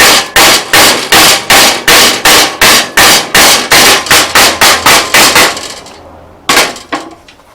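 Repeated sharp metallic hammer strikes knock slag off a beginner's gasless MIG weld, about fifteen hits in a steady, fast rhythm, loud and close, then a short pause and one final blow.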